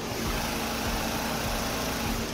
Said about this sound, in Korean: 밖으로 나가서 엔진 소음 한번 담아보도록 하겠습니다.